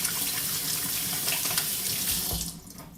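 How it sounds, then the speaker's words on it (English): A kitchen tap runs steadily and loud into the sink while dishes are washed up after cracking eggs for breakfast, the rushing flow thinning out toward the end. "I'm gonna wash up."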